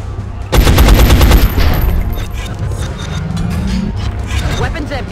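Rapid automatic gunfire from the video game XCOM crackles loudly in a dense burst, then gives way to a lower sustained rumble of combat effects.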